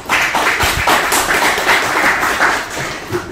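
An audience applauds to welcome the poet Kamuran Tuna at a Mehmed Âkif poetry evening, with steady, dense clapping that holds for about three seconds and then eases slightly.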